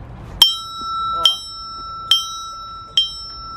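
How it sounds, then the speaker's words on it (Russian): A small bell is rung four times in a slow, even rhythm, each bright metallic ring loud and close before fading quickly, with faint background noise between strikes. "Надо звонить в колокольчик обязательно еще, да?"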